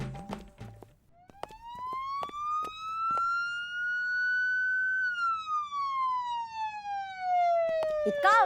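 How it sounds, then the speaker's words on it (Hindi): A police-style siren wails in a single long rising then falling sweep, clear and steady, with sharp knocks and brief voices at the start and end. "ये सायरन की आवाज कहाँ से आ रही है?"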